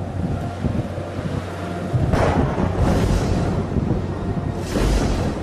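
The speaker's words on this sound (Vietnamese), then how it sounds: "bão lớn lắm" Storm wind roars steadily in an animated historical drama set in late Tran dynasty Vietnam, with louder rushing gusts swelling at about two, three and five seconds; no one speaks.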